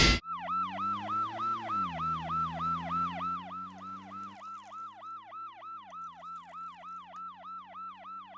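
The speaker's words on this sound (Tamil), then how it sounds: "என்ன சைரன் சத்தம் கேக்குது?" A minister's car siren wails nearby in a steady repeating rise-and-fall, loud and clear from start to finish over a low vehicle rumble, with no voices.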